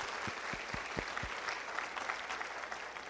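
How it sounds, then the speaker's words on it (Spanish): A church congregation gives a welcoming round of applause, a soft, distant patter of many hands clapping steadily, with a few louder individual claps standing out near the start. "Les damos un aplauso de bienvenida"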